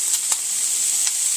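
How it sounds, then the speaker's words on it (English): Minced ham fries in a hot skillet with a steady, bright, close sizzle, broken by a couple of faint utensil taps. "That's going to taste like bacon when you fry that ham in a hot skillet"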